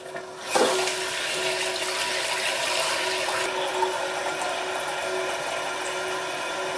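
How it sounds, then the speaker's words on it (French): A toilet cistern refills through a float valve after the supply tap is opened: a steady hiss of rushing water with a faint mechanical whine and a few clicks, close and alone. "Pour ça, j'ouvre évidemment le robinet d'arrivée d'eau."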